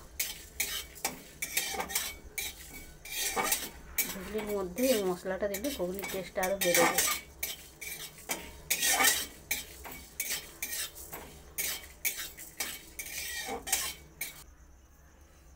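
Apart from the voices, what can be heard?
dry-roasting cumin, coriander, dried chili in a dry wok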